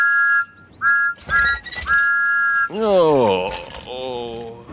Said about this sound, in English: he blew his whistle louder than ever